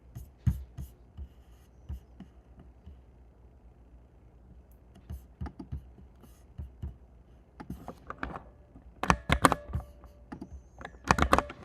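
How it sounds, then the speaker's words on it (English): Typing on a computer keyboard, close and quiet, with scattered keystrokes early and denser, louder bursts of clacking near the end. "Let's just start typing from here."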